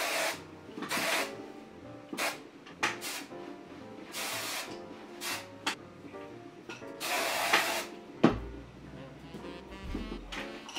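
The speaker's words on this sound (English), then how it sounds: "I'm going to take the hairspray, baby, and we're going to hairspray the heck out of this." Several short hissing sprays of hairspray onto styled hair, coming in bursts at a steady pace, some brief and one longer, close to the mic over faint background noise.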